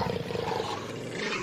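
In the VR video game Robinson: The Journey, an animal gives a loud, rough roar close by that fills the short moment with no talk.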